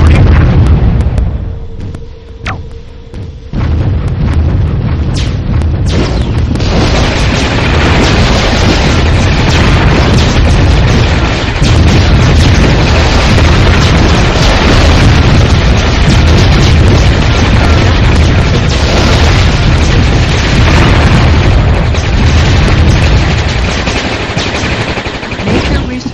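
Laser satellite strikes in the strategy game Warzone 2100 land as a long, dense barrage of loud booming explosions and crackling blasts, continuous and overlapping for the whole stretch after a brief quieter start.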